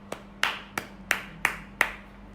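Six distinct claps spaced roughly evenly, sharp and close, from a small group or a single person at an online children's storytelling festival, with no talk.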